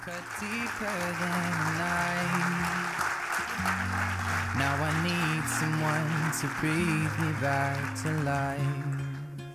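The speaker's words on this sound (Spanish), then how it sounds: "Recibamos con un fuerte aplauso al seleccionador Antonio Mesa." Applause rises for coach Antonio Mesa of the Catalan men's under-19 team at a coaches' awards ceremony, a steady dense clapping wash lasting throughout beneath loud music.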